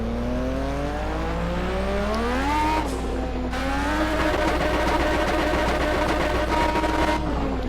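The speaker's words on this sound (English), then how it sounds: "I have to fully dump the clutch from the rev limiter, which is really irritating" A Pagani Zonda R race car in Project CARS launches hard, its engine revving upward with a rising whine, then a gear shift and sustained loud acceleration with tire noise underneath.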